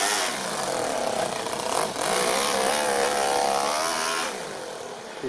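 A small engine pulls a 10 kg metal trailer in second gear while running low on fuel, giving a steady, close, buzzing drone with wavering pitch that sags slightly at the end.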